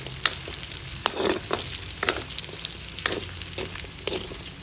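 Onions and dinuguan ingredients sauté in a pan, giving a steady sizzle of frying broken by repeated scraping stirs of a utensil against the pan, close and moderately loud with no talking.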